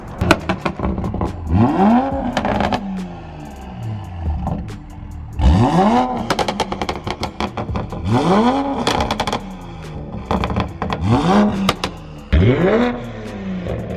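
A Nissan GT-R's engine revs hard several times in a row, each loud surge climbing and falling back to idle, close by with no talking.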